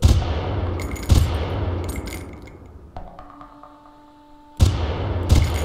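Sniper rifle shots in the video game Far Cry, two loud close reports each followed by a rattling metallic reload and clinks, a quieter stretch with faint electronic tones, then another loud shot.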